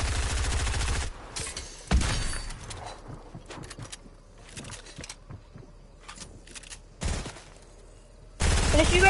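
Bursts of Fortnite gunfire in a video game, with loud rapid volleys at the start, after two seconds, near seven seconds and at the end, and quieter scattered shots and game sounds in between.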